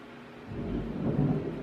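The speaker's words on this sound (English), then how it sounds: "And that is thunder" Thunder from the remnants of a hurricane rolls in as a deep, building rumble, growing louder over the short stretch amid a soft wash of rain, with no one speaking.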